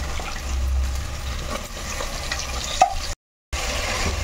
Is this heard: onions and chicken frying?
yes